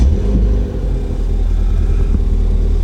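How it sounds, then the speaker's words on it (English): A Ford Fiesta ST engine, just started, idles with a loud, steady low rumble that holds evenly throughout with no other sounds. "And that's it, car is started."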